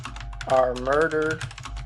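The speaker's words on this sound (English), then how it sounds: "let me make sure I'm typing this in" Typing on a computer keyboard, a fast patter of light keystrokes running under a voice that speaks briefly in the middle.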